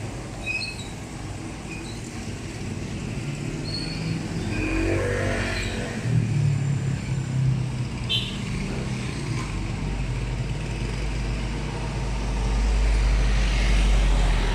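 Road traffic on a city street in the late morning, with a continuous broadband rumble of passing cars and engines, rising as heavier vehicles go by and swelling louder near the end, with no talk.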